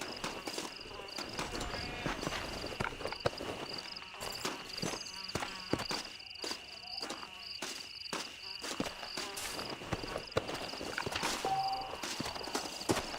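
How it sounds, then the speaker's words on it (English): Horse hooves clip-clop in the Red Dead Redemption video game, a steady walking rhythm over a constant chirping insect ambience, with brief speech and occasional game sounds in between. "And then I will take this horse to my other horse back this way."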